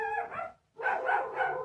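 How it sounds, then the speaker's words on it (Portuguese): A dog barks twice in quick succession, close and fairly loud, with a short pause between the barks. "Tem uns cachorros latindo aqui"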